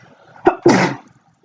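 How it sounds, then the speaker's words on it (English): A single close, loud human sneeze: a short sharp inhaled catch followed by a forceful burst, then quiet. "I have to sneeze."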